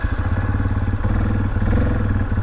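A Yamaha Kodiak 400 ATV, being restored after sitting abandoned, runs in four-wheel drive, its engine chugging with a loud, close, rhythmic low putter and some clatter.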